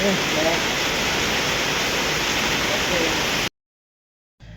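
Heavy rain pours down steadily at a rural Thai house, a dense, loud, hissing roar that fills the air and then cuts off abruptly, followed by a brief return of softer noise.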